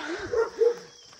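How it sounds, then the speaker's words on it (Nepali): A dog in a rural Nepali village in Ramechhap barks twice in quick succession, two short tonal barks at moderate distance with a brief gap, and nothing else is heard around them. "त्यहाँदेखि कुकुर रहेछ क्या"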